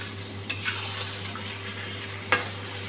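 Chicken being stirred a little at a time in a pan, with a steady low sizzle underneath and a few soft spoon-on-pan scrapes and clinks.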